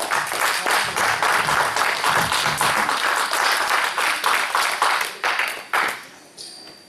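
A Baptist church congregation applauds during a service, with dense, sustained clapping from many people that fills the room, then tapers off and thins out near the end.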